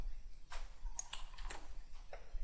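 Quiet clicks of a computer keyboard as a short part name is typed, a few scattered keystrokes over steady low background hum.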